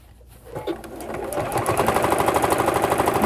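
A sewing machine stitches the seam of a fabric protective mask, starting quietly and then running steadily in a fast, even rhythm of close, loud needle strokes.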